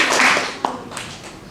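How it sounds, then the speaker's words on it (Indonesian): A church congregation at a prayer fellowship service claps together in a steady, dense wash of hand claps, close and fairly loud, with one sharper clap standing out partway through. "Yuk tepuk tangan lagi buat Yesus."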